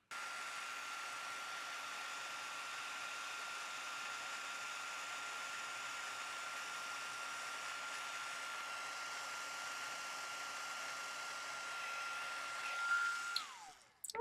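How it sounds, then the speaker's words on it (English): A heat tool blows a steady, even whoosh of hot air for about thirteen seconds to melt silver embossing powder on a handmade heart-themed greeting card, then cuts off abruptly. "I'll heat my heat tool and melt this powder"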